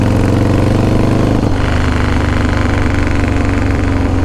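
A custom-built 2016 motorcycle engine runs loud and close, a deep throbbing idle that shifts slightly in pitch partway through as if lightly blipped, with no voices.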